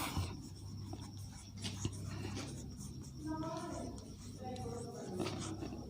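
Chalk or marker writing on a classroom board during a Class 9 biology lesson introducing the cell, a steady scratchy stroking faintly under a low room hum, with a voice talking in the background.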